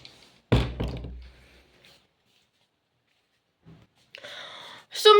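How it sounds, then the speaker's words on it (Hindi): A door shut in a home during a rainy monsoon day in Shimla, one sharp close thud followed by quieter rattling and a faint sigh. "एक मिनट में दरवाज़ा बंद कर लेती हूँ।"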